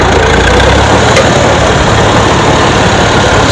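A 1953 IH McCormick Farmall Super C tractor engine chugs steadily up close with a loud low rumble and vibration, running with a lime spreader attached.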